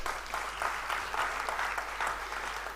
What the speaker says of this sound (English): A clap for all of them.